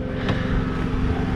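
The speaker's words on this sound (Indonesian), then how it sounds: "Ini mesin saya udah. Kipasnya udah menjerit-jerit." A car engine drones steadily while its cooling fan whines hard after a long drive. The hum is loud, close and unbroken, with no talk over it.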